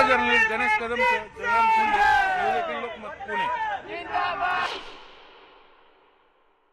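Aam Aadmi Party workers celebrate in Pune with loud, echoing crowd shouts and chanting voices rising together, then fading away into near silence at the end.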